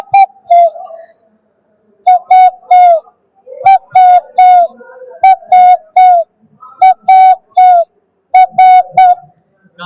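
A human voice mimics the padki dove's call, repeating short, tonal cooing phrases in rhythmic bursts separated by brief pauses, close and clear with no other sounds.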